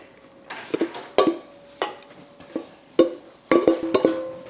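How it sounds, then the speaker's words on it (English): Food is spooned into a glass pie dish: a series of distinct clinks and knocks, about seven separate taps spread unevenly, close and fairly sharp, with no talking. "So let's put this whole thing into the pie dish."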